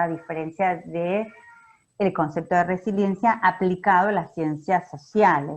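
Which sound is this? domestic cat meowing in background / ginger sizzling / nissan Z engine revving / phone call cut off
domestic cat meowing in background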